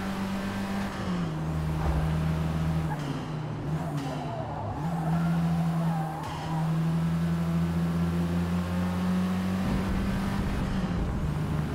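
Dodge Charger engine in Forza Motorsport, a loud close droning roar with a steady pitch that shifts through gear changes and brief lifts, sustained for the whole stretch with no talking.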